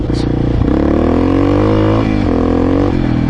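A new motorcycle's engine revs hard while being ridden, its pitch climbing quickly and dipping between pulls. The engine is loud, close and continuous.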